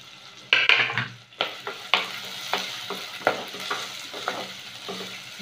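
Onion and curry leaves sauté in oil in a pan for a bitter-gourd kara kuzhambu, sizzling steadily while a spoon stirs and scrapes in several distinct strokes, close and fairly loud with no talking.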